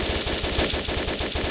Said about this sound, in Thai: ถ้าเราเริ่มยิงเร็วขึ้นเร็วขึ้นเร็วขึ้นกระสุนมันก็จะกระจาย